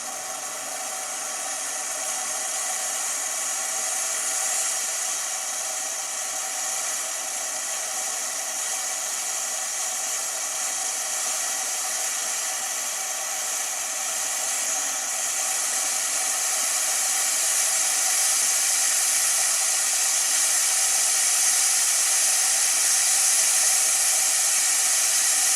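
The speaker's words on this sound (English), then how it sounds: "It'll vent for a few seconds and then it'll seal and start cooking for 30 minutes." An Instant Pot pressure cooker vents steam in a steady, loud, continuous hiss that holds for the whole stretch and swells slightly toward the end, with no talking over it.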